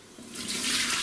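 Water from a reverse osmosis filter running into the boiler of a home distillation setup, a rushing stream that starts softly and swells to a steady, close pour within the second.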